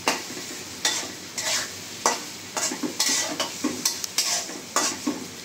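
Dried fish (shutki) stir-fried in a pan, the steady sizzle broken by repeated scraping strokes of a spatula against the metal, close and alone without speech.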